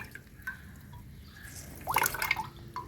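Water dripping and trickling from a squeezed cotton filter during herbal syrup preparation, faint scattered drips swelling into a brief pattering stream near the end, close by.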